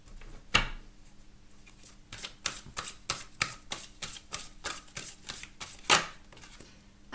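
Tarot cards riffled and cut by hand, a close series of quick papery flutters and snaps arriving in uneven bursts, one sharp riffle early and another near the end, with no talking.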